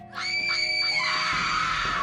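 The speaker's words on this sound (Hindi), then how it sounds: "रीना ने जोर से चीख मारी," Woman letting out a loud, sustained scream as a horror story sound effect, one shrill cry that swells after a brief lead-in and holds strongly to the end, alone without other sounds.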